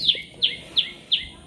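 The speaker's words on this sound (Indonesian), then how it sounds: "Wih, suara burung" Birds sing at a forest edge beside a village, with four evenly spaced, high, clear chirps repeating about every third of a second over quiet background, no talk.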